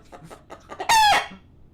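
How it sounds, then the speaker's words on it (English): A few soft clucks lead into a single loud, close rooster crow, bright and strained, then fading out. "There's the rooster."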